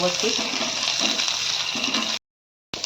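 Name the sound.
garlic, green chilies and coriander being sautéed in a pan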